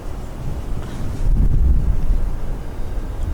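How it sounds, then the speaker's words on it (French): Loud, steady wind buffets the microphone with a low roar that swells midway and stays strong, no voices present. "il y a beaucoup de vent"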